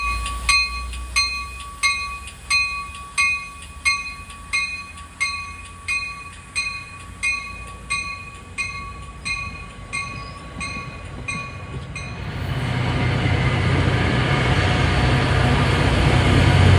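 A Port Jervis line train passing during railfanning in mild weather at Secaucus/Rutherford, New Jersey, opening with a regular clacking of wheels over rail joints, loud and close, before the cars give way to a broad, steady rushing roar.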